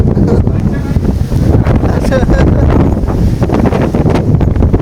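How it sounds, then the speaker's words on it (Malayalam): Cyclone wind in Hong Kong buffets the street beside a building, a loud continuous roar with gusty rumbling buffeting across the mic and a faint voice underneath. "ആദ്യമായിട്ടാണ് ഒരു ചുഴലിക്കാറ്റ് എക്സ്പീരിയൻസ് ചെയ്യുന്നത്"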